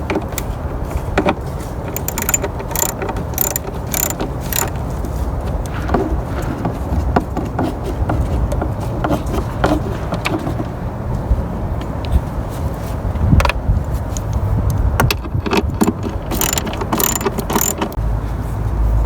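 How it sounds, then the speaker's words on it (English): A ratchet clicks rapidly in repeated bursts while 10 mm bolts come off the timing belt cover of a Camry V6, close up, with light metallic clinks between runs. "so I just removed this bolt here, snugged right under here"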